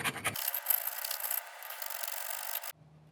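A sharpening stone works burrs off a speedometer part from a 1982 Honda Magna motorcycle. It gives a close, steady hissing rasp that lasts about two seconds and then stops abruptly, followed by a faint low hum.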